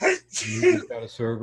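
A single sharp sneeze bursts out at a radio club's general meeting, close and fairly loud, followed by continued talking.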